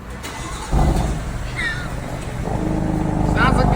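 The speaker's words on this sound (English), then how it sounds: "Let's hear that cold start." A BMW M4 fires up from cold in a garage, its engine catching with a sudden rise in level and then settling into a steady, fairly subdued idle, while people talk nearby.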